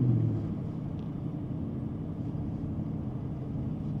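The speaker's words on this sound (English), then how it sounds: "what's going on with the traffic around here?" Steady low road rumble from cars on a congested street, heard from inside a 454 Chevelle SS, a constant near drone with no voices.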